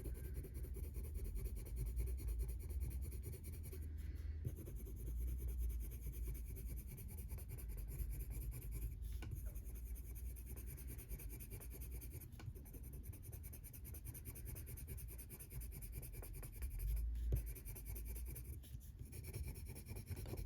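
Coloured pencil, a flame-coloured layer, scratching steadily over very toothy blue toned paper in a continuous close, fairly loud rasp with brief pauses between strokes.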